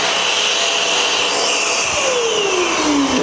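An 18L budget vacuum cleaner runs during a test, a loud, steady close-up roar with a rushing airflow hiss and a tone that slowly drops in pitch.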